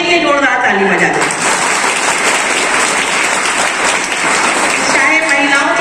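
An audience applauds loudly for tribal dancers at a Birsa Munda Jayanti cultural event held in a central jail, with dense clapping throughout and a voice speaking at the start and end.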